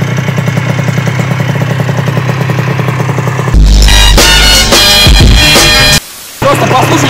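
A Yamaha BWS moped fitted with new parts hums at a steady idle close by, then bursts into a much louder, rougher roar that cuts out briefly before resuming.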